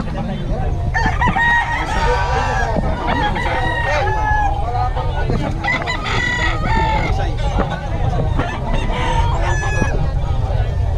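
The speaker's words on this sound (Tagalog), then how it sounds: "ang gaganda ng mga manok ni Boss Eric" Several roosters crow repeatedly and loudly, overlapping one another, with clucking hens and a steady low hum of crowd noise underneath.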